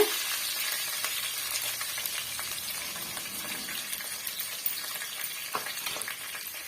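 Garlic and curry leaves sautéed in a pan for ground tomato rasam, a continuous close sizzle with crackling pops and intermittent scraping of the spoon, no talking.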